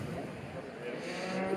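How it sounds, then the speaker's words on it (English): A cow at a UK dairy show ringside lets out a low moo, close and fairly clear, over a busy background murmur, lasting under two seconds. "There's the Lighthouse cow back into shot."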